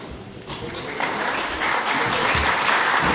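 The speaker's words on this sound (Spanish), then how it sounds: "Fuerte el aplauso para el biólogo Jair Peña Serrano" Audience applause breaking out after a lecture on Pleistocene mammals, a dense steady wash of clapping that swells after the first second and holds loud to the end.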